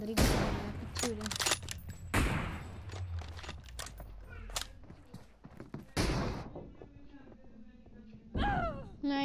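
Gunfire in the mobile battle royale game PUBG Mobile comes as repeated sharp shots and short bursts, loud and close, with quieter gaps between them and a few clicks and thuds.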